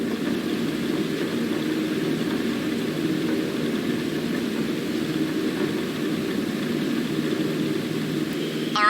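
Airplane engine idling on a runway, a steady low droning hum held at an even level throughout, close by with no voices.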